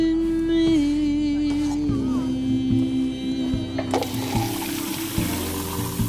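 Water runs from a tap into a sink over a constant mains-like hum, steady at first and then louder and splashier partway through, with a few clunks of handling.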